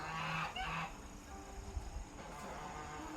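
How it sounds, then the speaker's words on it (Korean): Geese at a small pond inside a garden, a few loud honks close by at the start, then quieter, sparse calls over faint background noise. "거위네요 거위"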